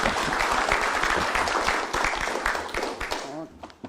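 Audience applause fills a campaign committee meeting in Gwangju, a dense, sustained roar of many clapping hands that holds steady, then thins and fades toward the end.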